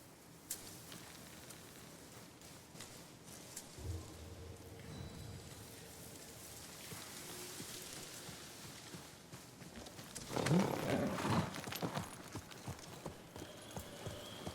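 Horse hooves clip-clop across the ground in the video game Ghost of Tsushima, a steady near rhythm under faint rain-like ambience, with a louder burst of movement late in the clip.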